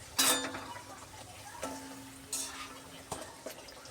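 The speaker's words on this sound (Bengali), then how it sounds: "এই যে দেখো লুচি ভাজা চলছে" Puffed luchi flatbreads fry in hot oil, giving several sharp sizzling bursts as dough goes in, each fading into a quieter crackle, with light clinks of a utensil between them.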